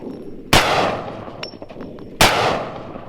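Two sharp, loud gunshot cracks in a video game, a machine gun firing at a target, spaced well apart, each with a short decaying tail over low background noise.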